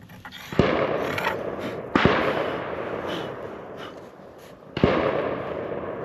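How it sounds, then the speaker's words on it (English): Sharp gunshot-like reports ring out in the distance at irregular intervals, three distinct bangs each trailing off into a long decaying rumble, with no speech over them. "I'm gonna have to go back and edit every one of these freaking gunshots out."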